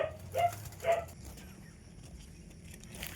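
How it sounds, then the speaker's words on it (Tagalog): A dog gives a few short barks or yelps early on, then falls quiet amid low background rumble. "change venue tayo kasi maingay yung aso ko"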